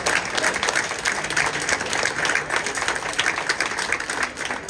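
An audience applauds the five finalists at a best breakfast and brunch competition final, a steady, dense round of clapping from a crowd indoors that holds evenly throughout, with no speech over it.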